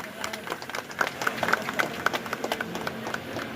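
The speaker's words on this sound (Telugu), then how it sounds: "చప్పట్లతో హర్షధ్వానాలు" A crowd at a public felicitation event claps steadily and briskly, with a murmur of voices mixed in and a speaker's voice over the applause.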